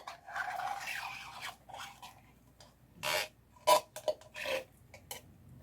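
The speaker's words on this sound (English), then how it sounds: "sorry for the scraping you may hear" A knife scraping chicken stew with tomato paste out of a slow cooker crock, heard as soft rasping scrapes in short bursts, with a few sharper louder scrapes near the end, close and without talk.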